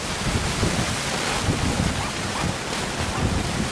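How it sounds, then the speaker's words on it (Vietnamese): Heavy rain and strong wind buffet a small anchovy fishing boat at sea, a steady dense roar of wind noise and pounding rain over sloshing water, loud and continuous, with no clear speech. "mưa tới rồi dữ rồi mưa dữ rồi"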